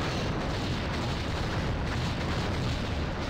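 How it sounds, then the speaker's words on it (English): Missiles launch at a small craft in a space battle video game, a dense continuous roar of rumbling blasts and booms that stays loud throughout, with no talk. "There go our missiles."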